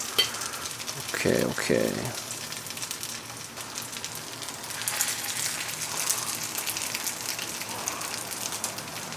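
Vegan meatballs fry in avocado oil in a pan with a soft, steady sizzle. A brief spoken remark and some clatter come early on, and the frying continues quietly underneath.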